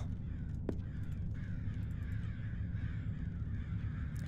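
Crows caw in the video game Summer of '58, a few faint calls spread over a low, steady rumbling ambience.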